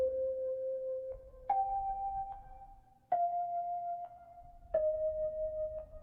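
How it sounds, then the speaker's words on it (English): A clean synth bell called Contact plays a simple four-note arpeggiated pattern, each note struck with a bright attack and sustained ringing tone, no effects. "I found this bell called Contact"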